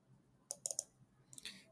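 A short flurry of computer keyboard key clicks while a spreadsheet formula is entered, four sharp close taps followed by a softer scatter of keystrokes, with no voice.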